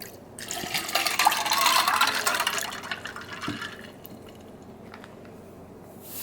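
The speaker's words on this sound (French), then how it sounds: "Fait que juste à rajouter de l'eau, puis un petit peu de lait." Water poured into a glass of iced coffee with ice already in it, a close, steady gurgling stream for about three seconds that thins to soft trickles and drips.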